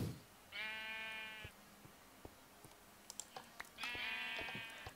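Two sheep bleats in a video game, separated by a few seconds of quiet broken by soft clicks. Each bleat is loud, harmonic and wavering, about a second long.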